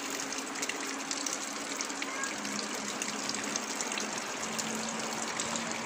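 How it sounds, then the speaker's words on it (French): Small waterfall in the Bouillon woods, water running and trickling down through the forest in a steady close splashing flow, with a faint tonal hum beneath. "Il pleut pas, hein, mais il y a de l'eau qui coule comme ça."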